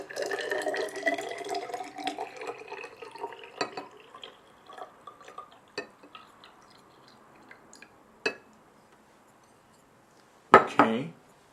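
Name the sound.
measuring out 100 ml of water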